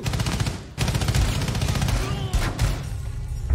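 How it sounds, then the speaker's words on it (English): Shotgun and rifle fire in Rainbow Six Siege, a dense volley of loud, close shots hammering almost continuously, broken by a brief pause and a few heavy blasts near the end. "Did you just shotgun all of them to death?"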